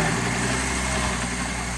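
Tractor engine idling just after a choke-assisted start, a steady, loud, low rumbling drone with constant vibration close by and no talking.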